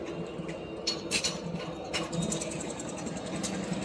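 Eicher Tera A25 9S dump truck engine idling nearby with a steady rapid mechanical chatter, brief louder clatters at moments, no talk.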